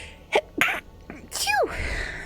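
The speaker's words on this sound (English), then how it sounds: "Oh, I'm gonna sneeze." A human sneeze: short sharp inhaled catches, then a loud forceful burst with a falling, voiced tail, close to the microphone over faint background game sound.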